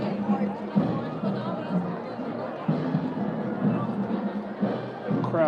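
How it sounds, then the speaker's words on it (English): Thick crowd chatter at Magic Kingdom theme park, a continuous babble of many voices with footsteps and general bustle, while a nearby voice talks over it. "Crowds are pretty thick."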